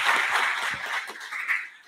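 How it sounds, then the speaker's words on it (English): A short burst of audience applause at an early childhood academy ribbon-cutting ceremony in Frayser; moderately quiet, diffuse clapping that swells and eases across two seconds. "would you stop for a moment and give them an applause"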